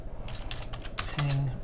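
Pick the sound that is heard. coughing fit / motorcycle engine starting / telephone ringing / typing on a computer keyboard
typing on a computer keyboard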